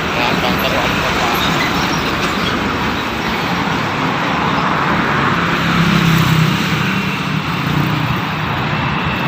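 Cars travelling along an uncongested city road near the mayor's office in Bengkulu, a continuous loud roadway rumble and engine noise swelling as vehicles pass close by, with people talking throughout.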